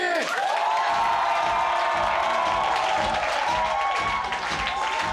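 An audience at a grandparents' stand-up comedy show applauds and cheers to welcome the first performer, a dense, continuous roar of clapping and shouts with a sustained tone running underneath.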